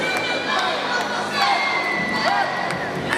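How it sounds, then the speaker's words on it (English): Ice hockey arena crowd at a France versus Belarus world championship game, a broad sustained roar of many voices chanting and cheering, steady and loud throughout with scattered whoops rising above the mass. "allez les bleus, what they've been chanting here in the crowd"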